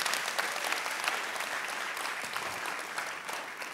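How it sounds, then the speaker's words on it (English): An audience claps for a panel of speakers, a dense, even wash of applause from many hands that holds steady and fills the room for nearly four seconds. "Please, a round of applause to our panelists."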